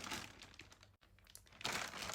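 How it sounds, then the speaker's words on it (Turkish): A plastic shopping bag from a cosmetics store haul crinkles and rustles continuously as it is handled and tossed aside, close and fairly loud, with a brief pause in the middle. "Evet, bu poşeti de kenara atıyoruz."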